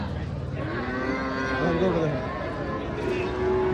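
Cattle moo in drawn-out low calls amid a busy crowd at a cattle market in Bangladesh, with people talking and bargaining over prices nearby throughout.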